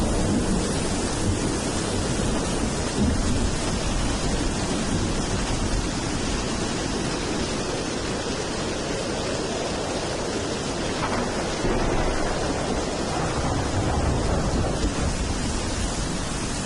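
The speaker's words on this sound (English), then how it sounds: "A really realistic sounding wind." Wind sound effect built on a synthesizer with compression, saturation and soft clipping: a continuous, loud, broadband rushing hiss with gentle slow swells, unbroken and without voices.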